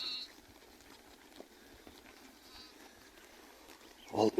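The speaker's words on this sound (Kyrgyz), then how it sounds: "Мына үй менен сатыла турган Арашан койлор ушулар." Arashan sheep are kept in a yard; after a stretch of quiet, faint background, a single close bleat sounds near the end.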